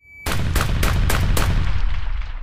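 A loud accidental gunshot cracks up close, followed by several rapid booming reports and a long rumbling echo that fades slowly.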